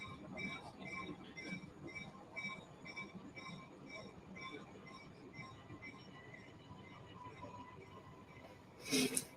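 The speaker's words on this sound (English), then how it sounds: "This is where that train is coming through" Train rolls past on a railway line, with rhythmic wheel clatter and high wheel squeal repeating throughout, distant and faint, ending in a brief louder screech.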